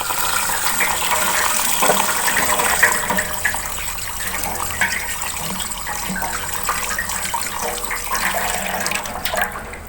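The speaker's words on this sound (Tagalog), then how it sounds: "Hugasan natin." Tap water runs steadily over a milkfish (bangus) being washed in a sink, a continuous close splashing hiss with small shifts in the flow, no talking.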